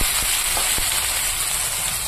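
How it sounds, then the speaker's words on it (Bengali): Chopped onions frying in a hot pan with cumin until reddish, a dense, loud, steady sizzle heard close with a couple of faint clicks, no talking. "পেঁয়াজটাকে একটু লাল লাল করে ভেজে নেব"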